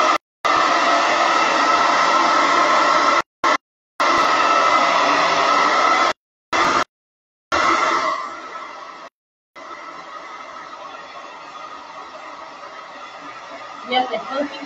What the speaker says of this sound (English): let's give it a quick little dry with the blow dryer